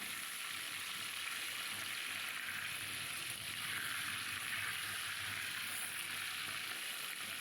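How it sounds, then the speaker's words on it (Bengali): Tengra fish frying in oil in a wok, a continuous low hiss and sizzle at moderate distance, steady throughout with no speech. "ট্যাংরা মাছটা ঠিক এইভাবে রেখে ও ওর মতন ভাজা হচ্ছে"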